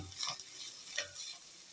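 Vegetables being stirred with ginger in a pan, a steady soft scrape and light sizzle with a few louder stirring strokes, no voices.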